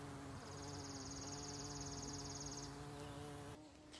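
A bee buzzing close to a flower in a backyard garden, with a steady droning hum and a higher whine overlaid partway through, faint and continuous outdoors.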